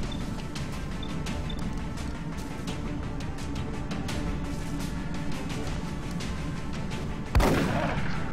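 A single sharp gunshot from XCOM: Long War cracks out near the end, loud and sudden, after a stretch of steady in-game ambience with faint ticking.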